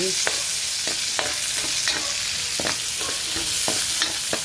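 Onions sautéing in a pan for pochero, a steady close sizzle with repeated scraping stirs of a spatula against the pan at an irregular rhythm.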